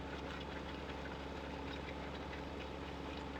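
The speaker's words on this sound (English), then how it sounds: "This tractor's not wanting to move." A tractor engine in the video game Farming Simulator 15 runs at a steady, continuous low rumble with a rhythmic knocking pulse, the tractor struggling to move, heard alone without speech.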